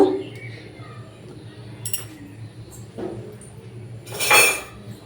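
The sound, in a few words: spoon scooping homemade tomato puree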